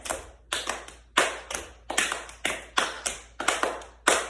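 Sharp, isolated hand claps in an uneven rhythm, about a dozen single or double claps separated by silence, fairly close and moderately loud, as fans of a school spirit cheer clap along.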